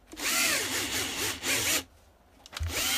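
A power drill fitted with a 7 mm bit opens up a pre-drilled hole during assembly of a motorcycle PL1 tank mount, whirring loud and close in two bursts with a short pause between.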